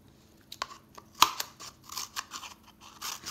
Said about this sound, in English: We talked about how you can cut the bottom